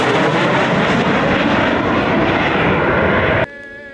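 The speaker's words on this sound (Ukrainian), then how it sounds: "Опісля панахиду у небо піднявся бойовий літак Су-24." A Su-24 military jet flies overhead after a memorial service in Kolomyia, a loud, sustained broadband engine roar that fills the air and then cuts off abruptly near the end.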